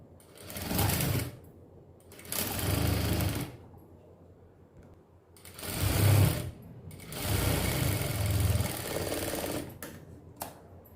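A sewing machine stitches a miniature doll dress, running in four separate bursts of steady whirring and needle chatter with short quiet gaps between them.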